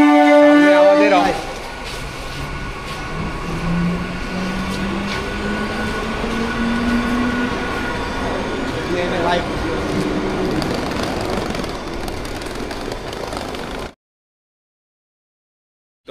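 Suburban train travelling toward Ghoshpara station heard from inside the carriage, a loud steady rumble and rattle of wheels with a rising tonal whine, a louder burst at the start, ending abruptly.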